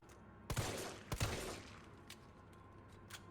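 Gunshots in the Resident Evil 3 Remake demo: two loud, sharp bursts of gunfire close together, then several fainter single reports trailing off, with no talking.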